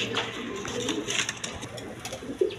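Rajgolla pigeons coo softly and repeatedly nearby, their low throaty calls overlapping over a faint background with some light rustling.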